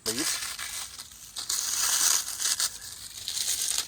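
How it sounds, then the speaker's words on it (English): Crisp crackling and crinkling as dry leaves are crushed by hand, close and fairly loud, in a few bursts. "I take my leaves, crumple them up."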